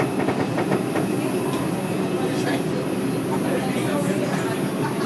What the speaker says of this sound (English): What train is this? This the A train?